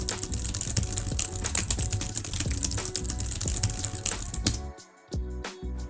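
Someone types a prompt on a computer keyboard in a dense, continuous run of crisp clicks, then pauses briefly before a few final keystrokes.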